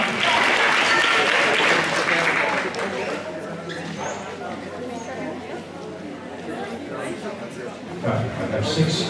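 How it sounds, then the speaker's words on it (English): Audience applause as couples take the floor at a junior Latin cha cha dance competition final, strong clapping at first that fades into crowd chatter and an announcer's voice. "Give them a round of applause."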